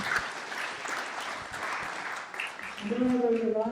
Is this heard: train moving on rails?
no